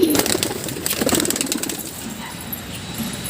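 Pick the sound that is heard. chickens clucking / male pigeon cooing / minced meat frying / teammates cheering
male pigeon cooing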